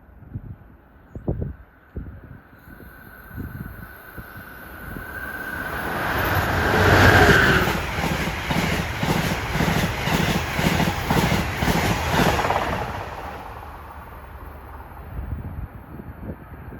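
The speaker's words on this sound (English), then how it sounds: "transit train for New York coming also" An NJ Transit train bound for New York approaches and rushes past, a horn sounding as the roar builds, then rhythmic clickety-clack of wheels over rail joints before fading away.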